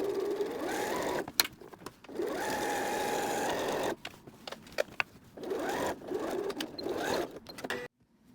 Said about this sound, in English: have the strap pointing up and just sew right over top of it